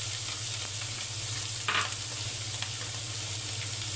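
Spicy chicken balls fry in hot oil, giving a steady close-up sizzle with a brief louder crackle partway through.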